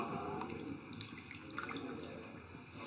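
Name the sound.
water poured into fish masala gravy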